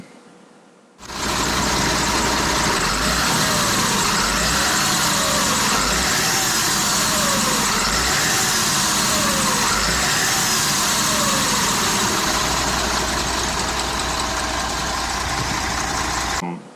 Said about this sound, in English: So there's a short little clip of it running.